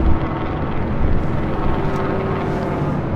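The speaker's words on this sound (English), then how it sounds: "KLM will be the first takeoff on the north side" Airliner taking off from the north side runway at LAX, a loud continuous broadband engine roar with a low steady hum, heard from the ground without voices.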